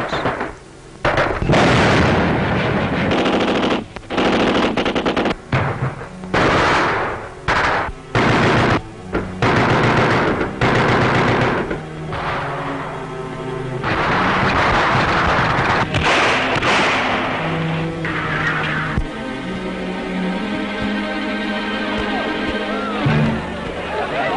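Gunfire during the 1944 attack on the German headquarters at the Chamber of Deputies in Paris: loud bursts of shots and blasts with rattling volleys, mixed with a narrator's voice and music in an old newsreel soundtrack.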